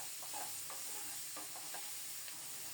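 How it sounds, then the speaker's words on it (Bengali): Yardlong beans frying with ginger-cumin paste and spices, stirred in a pan: a faint, steady sizzle with soft scraping strokes of a spatula scattered through it, close but quiet, no voices. "এভাবে নেড়ে চেড়ে কিছুক্ষণ কষিয়ে নেব, পুড়ে যেন না যায় সেটাও খেয়াল রাখব।"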